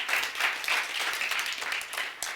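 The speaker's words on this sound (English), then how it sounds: "give a round of applause for that and John Lee Dumas" Audience applause breaks out at a talk about mentorship, a steady wash of many hands clapping, fairly close and even throughout, with no voices over it.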